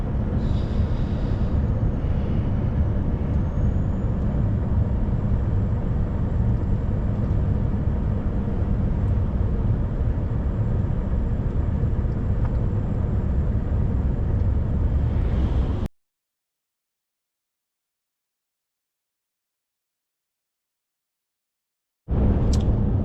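A truck driving on an icy road in Norway gives a constant low engine and road rumble with wind-like hiss. It cuts out abruptly into silence, then the rumble returns briefly at the end.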